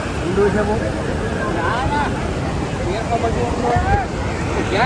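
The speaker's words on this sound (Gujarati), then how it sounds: "અહીંયા સતત પાણી વહેતું રહે છે મિત્રો" Water pours continuously at Jamjir Waterfall in Gujarat, a steady close rushing wash with wind noise, while people talk over it throughout.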